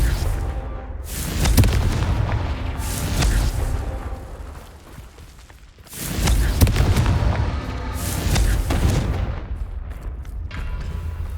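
Confringo blasting-spell explosions go off in the Hogwarts Legacy video game. Loud booming bursts come in two clusters, each with several sharp cracks and a rumbling, crackling tail, and the second barrage follows a brief lull.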